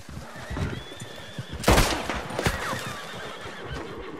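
Horse neighing and galloping in Red Dead Redemption 2, hoofbeats thudding under a sharp loud whinny near the middle, followed by another burst and scattered cracks, fairly close.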